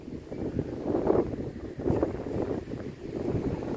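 Steady gusting wind at the Cleveland Point Lighthouse buffets the microphone with a low rumble, swelling and easing over a few seconds, with no voices.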